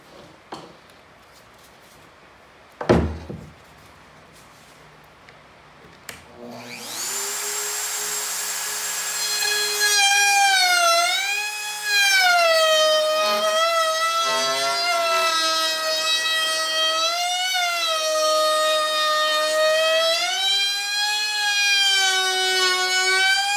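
A Festool router cuts a groove in a wooden board, starting with a loud high-pitched motor whine that spins up and then holds steady. The pitch dips and rises as the bit bites into the wood, and a few clunks come before it starts.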